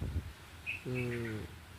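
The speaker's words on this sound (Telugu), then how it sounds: "కుయ్యం కుయ్యం కుయ్యం కుయ్యం అని అరుస్తున్నాయి" Morning birdsong near a house by a pond: a few brief high chirps, then a steady, resonant call lasting about half a second against a quiet, airy background.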